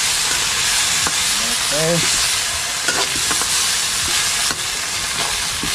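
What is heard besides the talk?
stirring sardines frying in a pan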